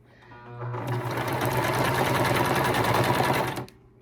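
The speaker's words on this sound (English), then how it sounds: "I line my needle up with the line." A sewing machine stitches a paper-pieced quilt block, one continuous fast run of needle chatter that starts, holds steady for about three seconds and stops, close and alone.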